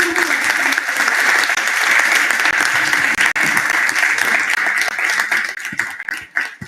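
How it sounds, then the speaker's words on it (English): Enthusiastic audience applause at a generative AI conference session, a large crowd clapping loudly and continuously, then breaking into scattered individual claps as it dies down. "a big round of applause"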